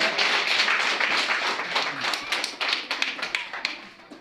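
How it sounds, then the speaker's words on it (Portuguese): A church congregation at a Wednesday worship service claps together. Many hands produce a busy wash of applause that turns into sharper, distinct close claps toward the end, with a faint voice briefly underneath. "Aplauso para Jesus."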